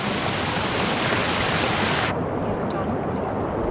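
A waterfall in a video game roars as a loud, steady, full rush of water, then cuts off abruptly partway through, leaving only a faint hush.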